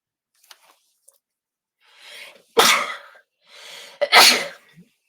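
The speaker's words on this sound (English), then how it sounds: "I apologize for the sudden sneezing." Two sudden, loud sneezes about a second and a half apart, each preceded by a sharp inhaled breath, heard up close during a crafts livestream with no talking.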